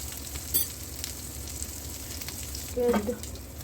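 Chicken tikka frying gently on low flame at home, a soft steady sizzle with a couple of brief clinks and scrapes of utensils.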